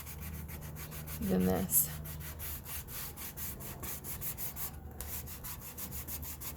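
Painted wood being sanded by hand with sandpaper, a quiet rhythm of rapid scratchy strokes with a brief spoken remark early on.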